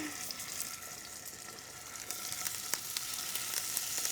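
Scallops sear in a hot pan with a steady, close sizzle and scattered crackling pops that grow slightly louder toward the end.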